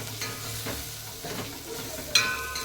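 Grated dried coconut roasting in a pan, with a low hiss and soft scraping strokes as it is turned, then a brief sharper clink near the end.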